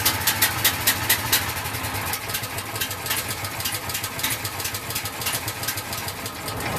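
A Honda engine idles while warming up with the choke in use, a close, fairly quiet chugging with rapid uneven pulses early on that settle into a steadier, rough idle.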